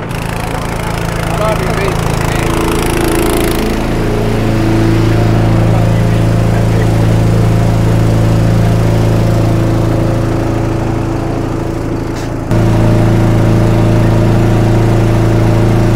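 A fuel bowser's engine runs steadily while it pumps liquid into a farm sprayer. The drone is loud and constant, and its tone shifts slightly partway through.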